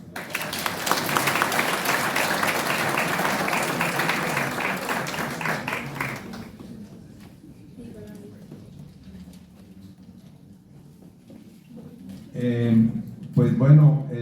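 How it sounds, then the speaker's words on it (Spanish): Applause from an audience at a book launch for a collection of short stories rolls on for several seconds, then stops abruptly, leaving a quiet room with faint shuffling before a voice begins speaking. "Muchas gracias, Álvaro. Un aplauso."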